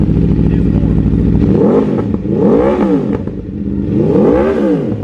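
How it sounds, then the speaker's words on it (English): An Aprilia RSV4 motorcycle engine starts and idles with a loud, close, rumbling clatter, then blips the throttle in three rising-and-falling revs. "here's the startup of the RSV4"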